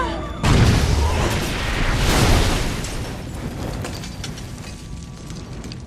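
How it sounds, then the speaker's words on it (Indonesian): A film explosion that goes off suddenly as people get into their cars, with several workers killed by bombs planted in the vehicles. A loud boom hits at once, followed by a broad rumbling roar and debris noise that fades slowly. "tiba-tiba saja terjadi ledakan"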